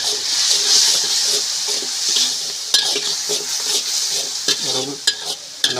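A mung bean pulao mixture is stirred in a pot, with a soft sizzle and a steady scrape and clink of a spoon against the metal, plus a few sharp taps near the end.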